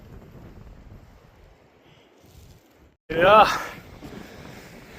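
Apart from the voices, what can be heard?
wind blowing on a mountain ridge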